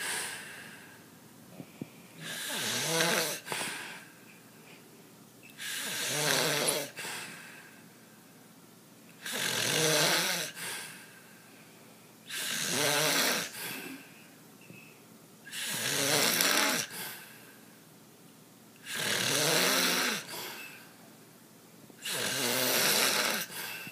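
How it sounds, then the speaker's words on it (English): Heavy, snore-like breathing repeats in a slow, regular rhythm, each loud raspy inhale separated by a quieter pause, about eight breaths and close to the listener. "If you're wondering what the heavy breathing is in the background"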